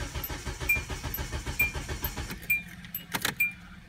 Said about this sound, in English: It's trying to start the engine.